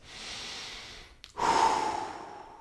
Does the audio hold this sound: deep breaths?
yes